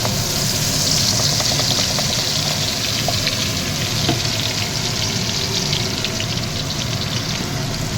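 Spices, cardamom and an onion, chili, ginger and garlic paste frying loudly in a pan for mutton curry, a dense continuous sizzle with faint scraping from stirring, close and steady.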